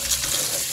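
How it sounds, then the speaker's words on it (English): A live Dungeness crab gets rinsed under running water, a steady close hiss and splash of tap flow across a brief moment with no talk. "We clean it. We give it a little bath."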